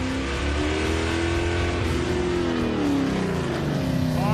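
A 1972 AMC Javelin street car driving hard with brakes being burnished, a loud continuous engine drone that rises and falls in pitch as the car accelerates and slows.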